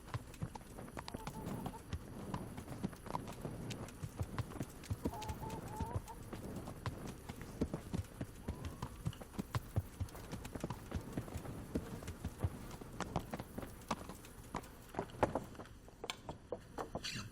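Rapid, rhythmic horse hooves clip-clop continuously in the video game Kingdom Come: Deliverance, fairly close, with brief muffled voices and faint background sounds in places.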